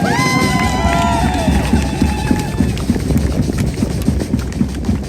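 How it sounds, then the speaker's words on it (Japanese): Applause from a crowd at an indoor benefit event, a dense patter of clapping that runs loud and continuous throughout, with some cheering tones near the start that fade away. "みんなで拍手を大きな拍手をお願いします。"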